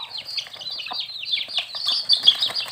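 Nine Lukkoy Panat game-fowl chicks peep steadily and shrilly beside their mother hen, a dense high chirping with faint soft clucks and rustling beneath.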